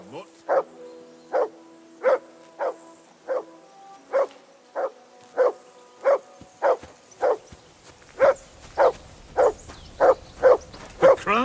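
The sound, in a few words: dog barking and growling in Kingdom Come Deliverance 2 video game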